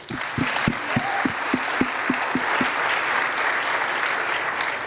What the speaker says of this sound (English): I think we can all applaud for that one.